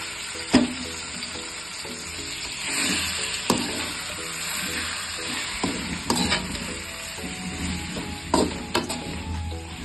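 Chicken sizzles steadily in a hot pan, broken by scraping stirs and a few sharp clinks of a utensil, with no voices.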